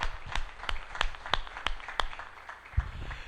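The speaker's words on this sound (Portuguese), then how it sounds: "Aplaude se está claro" A church congregation clapping in a slow, regular rhythm, roughly one sharp clap every third of a second, fairly near and moderately loud, with no talking over it.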